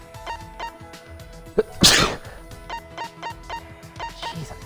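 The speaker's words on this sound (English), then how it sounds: "Jeez, I'm sneezing a lot." A single loud, close sneeze bursts out over a quiet background of soft music and faint ticking.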